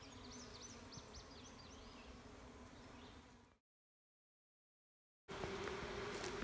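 Honeybees swarming around a newly installed beehive, a dense, steady close buzz with individual bees whining past, cut off by a short gap of silence before the buzzing resumes.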